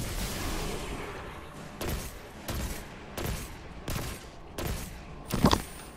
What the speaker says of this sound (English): I don't like this handgun, but man, you get a headshot.